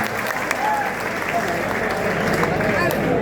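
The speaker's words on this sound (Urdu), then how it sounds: "ایک بار پرزور تالیاں بجائیں." An audience at an All India mushaira in Deoband applauds with dense, sustained clapping from a large crowd, steady and loud throughout with no break.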